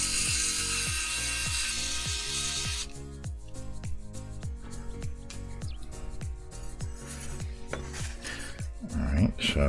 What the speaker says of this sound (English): let's go ahead and remove the screws for the weight.